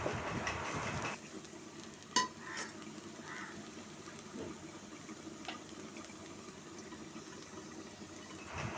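Pudina rice with ghee is stirred in a pan, a soft scraping and gentle sizzle with one sharp clink of the spoon against the metal, faint and close.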